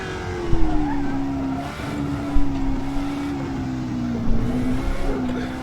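Classic Can-Am race car in Assetto Corsa roaring at high speed on the Mulsanne Straight, a steady loud engine drone with slight pitch dips at shifts, continuous throughout with no talk.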